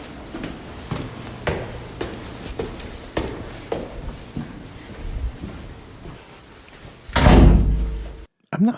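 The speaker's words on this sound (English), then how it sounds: "Alarmed doors here." Inside a stairwell, a series of sharp thuds and footfalls lead to a heavy door being pushed open and slammed shut with a loud, booming impact that echoes, followed by a brief quiet.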